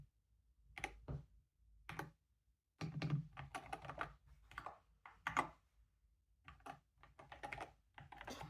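Clicky keystrokes on an MCHOSE Ace 60 Pro magnetic-switch mechanical keyboard, typed in irregular bursts with short pauses, close and fairly quiet.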